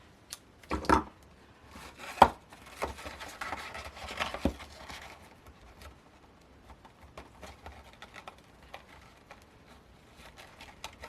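A few sharp cuts trim the end off a paper treat box piece, close and crisp clicks early on, then fainter light rustles and taps.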